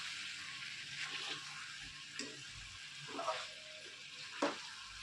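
Chicken sautés in a pan for a Sunday lunch curry, giving a soft steady sizzle broken by several wet stirring scrapes, fairly quiet and close.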